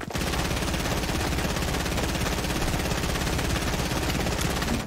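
Continuous loud automatic gunfire in the video game Fortnite, a steady rapid rattle of shots that runs unbroken for several seconds, close and dominant with no talk over it.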